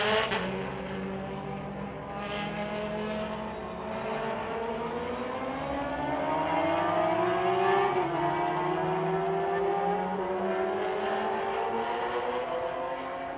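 Racing motorcycles at the Macau Motorcycle Grand Prix street circuit, engines droning and rising in pitch as they pass, a steady loud mechanical roar with shifting whine throughout, no voices.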